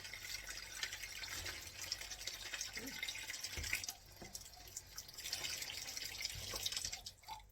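Something being rinsed under a running kitchen tap: water splashes and trickles softly and unevenly, quiet and close, with brief clatters and no talk.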